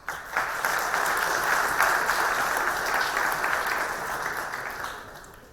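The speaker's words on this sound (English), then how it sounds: "you deserve a round of applause" A crowd at a university convocation ceremony applauds in a steady, dense wash of clapping that starts abruptly and slowly fades, with no speech over it.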